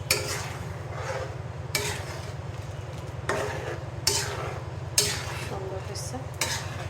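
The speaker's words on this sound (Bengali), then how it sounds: "রসুন, পেঁয়াজ দিয়ে, শুকনো মরিচ দিয়ে ডাল বাগার দিয়ে দিলাম।" Dal is tempered with garlic, onion and dried chili in a pan, a soft steady sizzle underneath repeated metal spoon scrapes and clinks against the pot; a voice speaks briefly.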